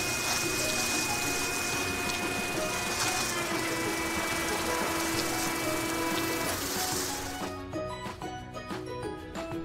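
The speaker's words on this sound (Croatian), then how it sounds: "Ok, saperimo te balončiće." Water rinses soap bubbles off a car in a cartoon car wash, a continuous rushing spray over a sustained musical tone, thinning into choppier splashes near the end.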